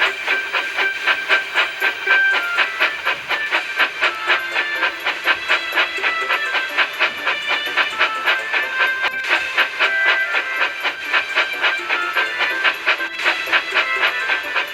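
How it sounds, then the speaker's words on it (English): Animated steam engine chuffing along the rails toward Barrow-in-Furness, a loud, steady rhythmic chuff with hissing steam that runs throughout. "Callum chuffed away to Barrow in Furnace."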